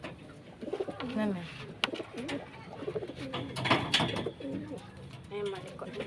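Pigeons are handled and given water during racing-pigeon training in Guimba, Nueva Ecija, with soft cooing and wing rustles heard close by while someone talks over them.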